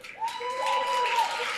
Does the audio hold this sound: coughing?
no